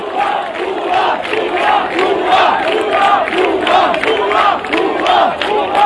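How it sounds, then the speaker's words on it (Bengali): Large crowd of students in a street procession chanting slogans in unison, loud rhythmic shouted phrases repeating in waves, close and continuous with no single voice standing out. "পুরো জায়গাটি এখন আসলে মিছিলে মিছিলে স্লোগানে স্লোগানে"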